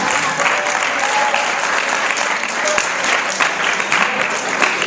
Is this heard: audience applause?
yes